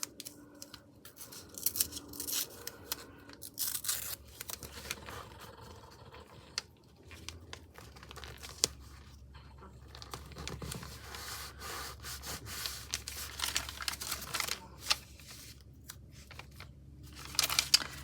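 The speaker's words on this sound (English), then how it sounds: "I think I'm gonna tape this in here" Tape being torn and pressed down onto a paper craft project, heard as a string of scratchy rubbing and ripping sounds close up, with no talking.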